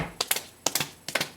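A voice imitates a horse being ridden: three short clusters of clicking taps, each two or three quick clicks, spaced evenly like hoofbeats, close and moderately quiet with no talk.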